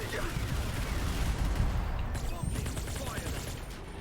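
Lancer rifle fire in Gears of War, a dense, sustained rattle of automatic shots mixed with game noise and continuing throughout.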